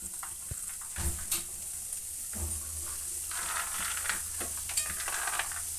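Mustard seeds and cumin dropped into hot oil for coriander rice, crackling and sizzling close up with scattered sharp pops and a steady frying hiss, no voices.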